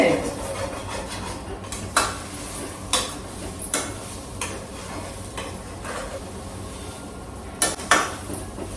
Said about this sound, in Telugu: కొంచెం కొబ్బరి వేగాలండి